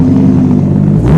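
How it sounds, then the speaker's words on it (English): A Corvette sports car's engine rumbles loudly and close in a brief, steady low growl at a car meet, with a slight change in tone near the end. "It's a Corvette, man."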